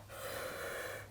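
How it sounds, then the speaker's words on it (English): A single deep breath drawn in and let out slowly during a calm breathing exercise, close and fairly quiet, with no talking over it. "So take a breath."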